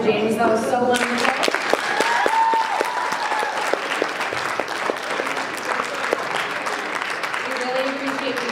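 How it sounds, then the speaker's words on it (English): An audience at a camp award ceremony applauds loudly and steadily, a dense crowd of clapping that continues evenly throughout, with a voice briefly heard at the start. "Can we please just have another round of applause for James?"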